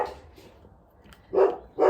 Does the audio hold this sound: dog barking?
yes